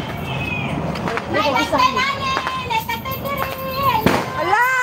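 Several sharp New Year's fireworks bangs and crackles pop at irregular intervals while excited children shout and chatter loudly over them.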